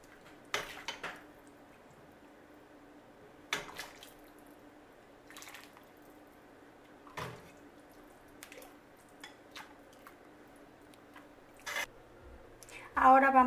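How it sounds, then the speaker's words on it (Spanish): Pozole rojo is ladled into dishes: sparse, sharp clinks of the ladle against bowls ring out at intervals over a quiet kitchen hum, ending with a louder clatter. "vamos a servir el pozole."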